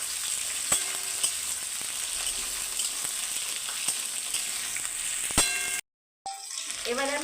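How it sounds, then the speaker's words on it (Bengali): Flat beans and green banana sizzle steadily in a hot pan of oil while being stirred for a Bengali sukto, with a spatula clinking against the pan several times. Near the end the frying briefly cuts out. "এবার আমি দেবো সিমটা আর কাঁচকলাটা একসঙ্গে দিয়ে দিলাম। দিয়ে এটাকেও আর একটু নাড়বো নেড়ে চেড়ে।"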